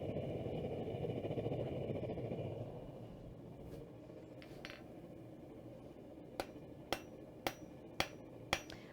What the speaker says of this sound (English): Holding it really steady at the anvil here is super crucial to make sure that you're getting just one little notch instead of multiples